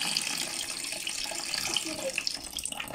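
Dirty water running from a household tap after a water filter change in a village home, a steady hissing splash that holds for several seconds at close range.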